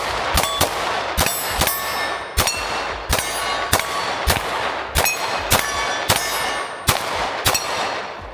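Repeated gunshots from a Glock 19 Gen 5 pistol ring out at steel targets, each sharp crack followed by a bright metallic clang, fired in steady pairs and singles over several seconds with no talking.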